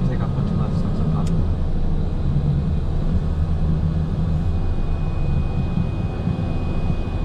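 A Piaggio P180 Avanti turboprop rumbles steadily through its takeoff roll from inside the cockpit, a loud, constant engine drone with a faint tone running throughout.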